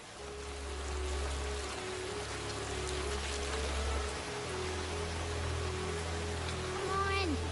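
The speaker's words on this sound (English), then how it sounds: "The rain is only getting worse, Apple Bloom." Steady cartoon rain falls in a continuous hiss across the scene, with a low rumbling bed beneath it and faint tonal music or effects toward the end.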